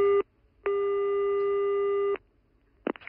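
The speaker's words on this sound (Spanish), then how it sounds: "Estabais llamando por teléfono, ¿estabais comunicando?" A telephone busy signal sounds as steady tone bursts, one short and one long, with a clear gap between them, ending in a brief clatter.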